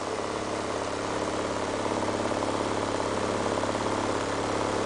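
Steady high-pitched whir and hum of a small Neorotor motor fitted with a Rodin coil and a Hall sensor, running at higher revs, a constant close drone with a fine rapid pulsing throughout.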